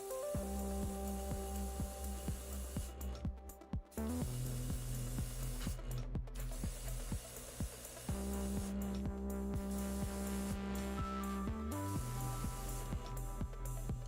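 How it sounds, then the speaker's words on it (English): An airbrush sprays primer onto Warhammer 40k models in a continuous hiss with short breaks, heard close under a constant tonal hum from the room or a compressor. "It's amazing how much you can get primed really quickly with just an airbrush."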